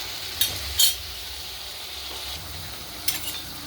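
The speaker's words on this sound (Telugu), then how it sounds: "ఇది ఆయిల్లో ఆనియన్స్ చికెన్ కొంచెం ఇలా అయితే ఫ్రై అవ్వాలి" Chicken and onions frying in oil in a pan, a low steady sizzle with a few brief bright scrapes of a spoon stirring, no talk.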